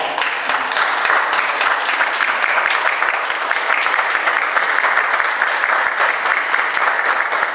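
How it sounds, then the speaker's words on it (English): A large crowd gives a standing ovation, applauding loudly and steadily, a dense wash of clapping that never lets up, with faint cheering mixed in. "get on our feet and give them a standing ovation"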